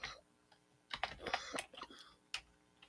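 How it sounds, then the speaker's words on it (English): Bursts of computer keyboard typing, a few scattered keystrokes and then a quicker run of clacking taps, fairly close and faint, in a quiet room without talk. "we're typing notes back and forth"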